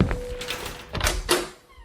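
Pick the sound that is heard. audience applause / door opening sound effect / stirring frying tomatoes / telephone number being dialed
door opening sound effect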